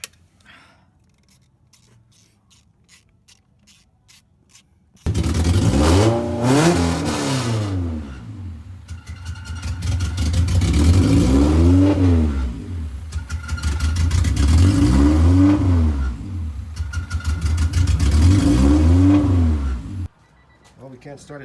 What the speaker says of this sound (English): We just tried to crank it over right now and fuel just squirted out.